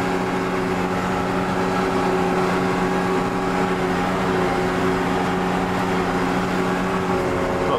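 A heavy tractor engine, a JCB Fastrac working in a field at about 1700 rpm, drones steadily at a constant pace, a low rumbling hum with no break throughout.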